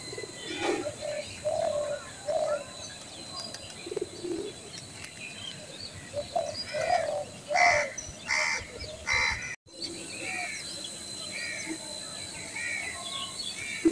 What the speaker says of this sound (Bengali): সকালবেলা পাখির সুন্দর ডাক শোনা যাচ্ছে।